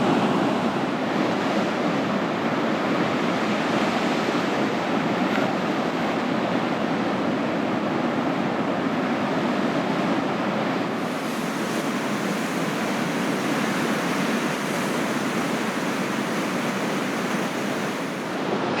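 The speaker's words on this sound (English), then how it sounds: "Uh-oh, a few big waves coming in." Big ocean waves surging onto the shore near Redhead on Lake Macquarie's coast, a steady broadband roar of surf with wind buffeting the microphone throughout, loud and continuous with no talk.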